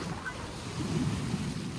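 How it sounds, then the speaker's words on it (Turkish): Sea waves roll in near the shore as a steady broadband wash, with a slightly fuller surge in the second half; no voices, only continuous surf noise. "Biz de dalgalar karşısında oturuyoruz."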